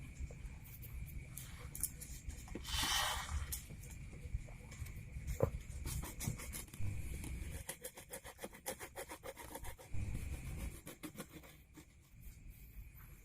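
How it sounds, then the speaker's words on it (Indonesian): Scraping and rubbing from sanding a burnt transformer inside a voltage stabilizer, irregular bursts of rasping strokes with a brief louder swipe early on, close and fairly quiet. "Dan kita akan gosok dahulu untuk bagian trafonya."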